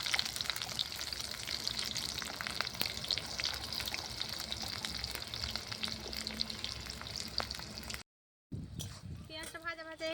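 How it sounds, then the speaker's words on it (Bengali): Chopped onion and green chillies frying in hot oil on a clay stove, a dense, continuous close sizzle with crackles; the sound cuts out briefly near the end before a voice speaks. "পেঁয়াজটা ভাজা ভাজা হয়ে গেছে।"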